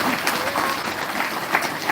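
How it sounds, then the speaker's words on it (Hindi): Applause from a live audience at a Ram Katha religious discourse, a dense, steady wash of many hands clapping at once, loud and close, with faint voices mixed in. "मेरे भगवान के लिए ताली बजा दिया जाए।"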